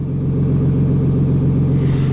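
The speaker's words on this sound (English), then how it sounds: "Engine is a little loud though while sitting in here right now." A Ram 2500 pickup's engine drones loudly from inside the cab while driving, a steady deep rumble with no talk over it.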